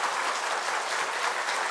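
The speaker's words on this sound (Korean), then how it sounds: "우리 교수님께 다시 한번 감사의 박수로 축복했으면 좋겠습니다" A church congregation gives the professor a burst of applause after an afternoon worship lecture, a dense, even wash of many hands clapping with no talk over it.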